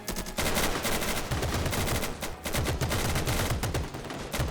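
Sustained, loud machine gun fire from the strategy game Men of War: Assault Squad 2, rattling rapidly and continuously with only brief dips in intensity.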